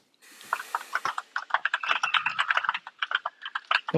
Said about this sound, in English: Dude, I have a loud ass keyboard.